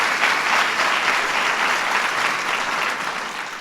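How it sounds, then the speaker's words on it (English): Audience applause at a program event, a dense, steady wash of many hands clapping close and loud for the full few seconds, easing slightly at the end with no talk over it. "Give her a big round of applause."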